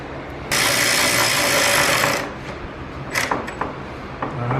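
Rapid mechanical clicking from a socket ratchet tightening a bolt in the engine bay of a 2013 Ford Raptor, a dense burst of close, loud clicks followed by a few scattered ticks and clatters.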